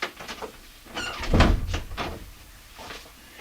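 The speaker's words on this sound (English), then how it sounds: "let me just close the door here" A door is closed indoors in a workshop room, a single solid thud with a brief rattle in the middle of a short quiet stretch.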